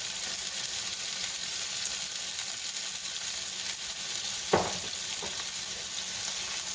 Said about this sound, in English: You just want to lightly brown both sides of these pork chops.